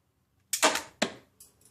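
Small plastic spring-loaded shooters on a LEGO Star Wars 75049 Snowspeeder toy fire in quick succession, giving two close, sharp snapping bursts followed by a fainter third click, with no talking.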